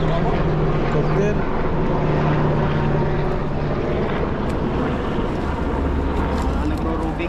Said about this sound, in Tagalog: Helicopter yan ah.